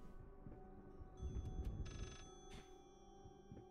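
A telephone rings in the horror video game Layers of Fear, a repeating electronic ring tone set against a low, rumbling ambient drone, moderately faint and with no talking.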